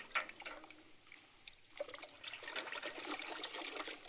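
Lime powder being stirred into water in a bucket, used for an areca nut crop spray mix: soft continuous sloshing and trickling, close and moderately quiet, with brief splashy bursts and no voices.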